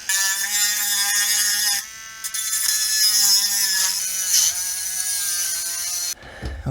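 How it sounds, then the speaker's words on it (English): A small powered sanding tool grinds against a Game Boy Pocket's plastic case, a steady high whirring buzz running for several seconds, dipping briefly once, then cutting off near the end. "I'm going to see if one of the sanding tools will start helping me out here"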